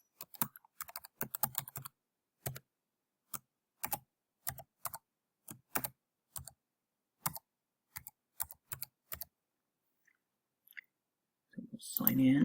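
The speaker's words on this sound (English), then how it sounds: "So we'll type that in now." Username and password typed on a computer keyboard, heard as quick clusters of close, crisp key clicks with pauses between bursts, then a brief louder rustle at the end.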